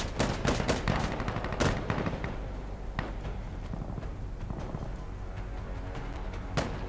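Rapid gunfire in the online shooter Point Blank: bursts of automatic shots and single cracks, loud and close, crowding the start and then continuing more sparsely over a steady background din.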